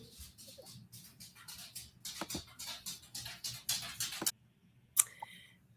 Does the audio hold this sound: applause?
no